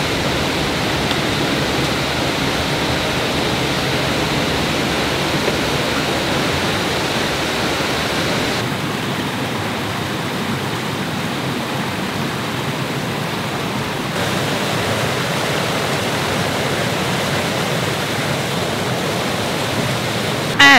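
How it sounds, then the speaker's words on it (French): A waterfall cascades beside a river, a loud, continuous broadband rush of falling water that stays steady throughout with no voices. "La cascade là."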